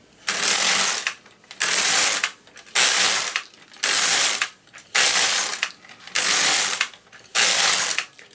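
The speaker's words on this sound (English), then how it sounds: "Now, I'm going to knit, here's my first row." A knitting machine runs its carriage across rows of yarn, making a loud rhythmic clattering rasp repeated seven times in even strokes, each pass followed by a brief quiet pause.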